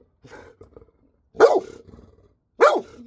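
A big dog guarding the front yard gives two loud, close barks about a second apart, each high-pitched and squeaky rather than deep, following some low grumbling.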